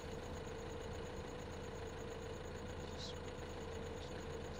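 A tractor engine in the Farming Simulator 15 video game runs at a steady idle, a constant low drone with faint high tones, heard alone with no voices.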